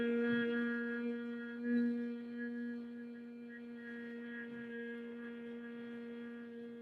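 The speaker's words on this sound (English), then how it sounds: "Now we'll make the humming sound." A person humming a steady tone during a breathing exercise, one sustained even hum held for several seconds, close and moderately loud.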